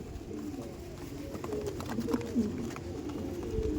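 Andhra tournament pigeons coo softly and low, a few murmuring calls blending into a busy background of rustling and faint noise.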